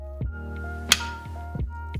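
Magnetic case of a Luxley Beauty makeup brush set snapping as it is pulled off and slid back, a single sharp click near the middle over a steady low hum and a few soft handling taps.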